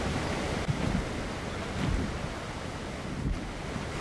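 Ocean surf washes steadily along the seashore in the video game Ark, a continuous broad rush of waves with no one speaking.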